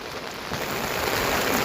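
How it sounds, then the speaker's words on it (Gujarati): Steady monsoon rain pours down, a dense continuous hiss of drops striking surfaces that grows slightly heavier partway through, with no voices. "હવે તો વરસાદ ચોમાસામાં તો આવ્યો"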